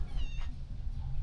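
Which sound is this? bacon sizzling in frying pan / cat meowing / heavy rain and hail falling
cat meowing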